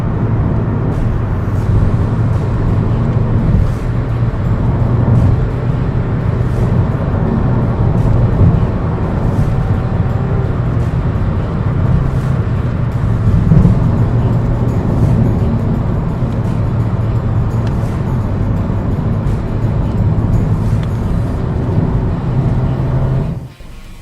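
A 2016 Honda City with a repaired CVT transmission cruises at high speed on a straight road, a steady, loud, enveloping drone of road and wind noise heard from inside the cabin without pause.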